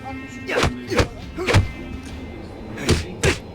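Punches hit in the video game Mortal Kombat X as a handful of close, heavy thuds at irregular intervals, separated by quieter gaps.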